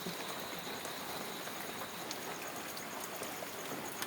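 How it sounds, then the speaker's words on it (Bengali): Steady night rain pouring down outdoors, a dense, even hiss with scattered drip taps, heard at a moderate distance with no voices over it. "এই যে দেখো কেমন বৃষ্টি হচ্ছে।"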